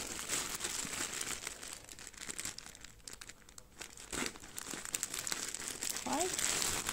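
Plastic packaging from an AliExpress order crinkles and rustles continuously as it is unwrapped, a close, busy crackle lasting throughout.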